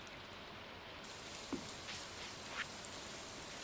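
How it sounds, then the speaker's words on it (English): Soft, steady rain in Stardew Valley, a quiet even patter with a few faint droplet ticks and no voices over it. "Luckily, it's raining, though."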